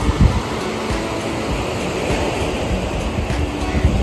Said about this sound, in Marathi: मोठ्या मोठ्या लाटा आता उसळत आहेत.